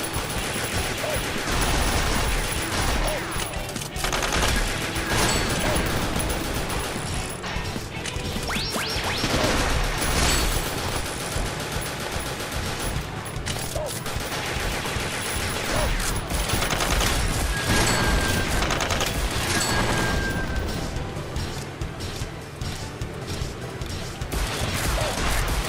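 Shotgun fire in the arcade-style video game Metal Slug, loud dense volleys of blasts and explosions pounding almost without pause under busy game noise.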